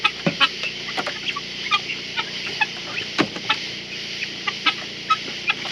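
Guinea fowl cluck and call in scattered bursts on a forest homestead, several birds close by, short repeated clucks with louder squawks popping up throughout.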